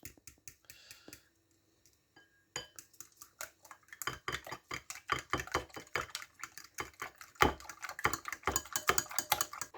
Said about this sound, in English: now we're going to give that a whisk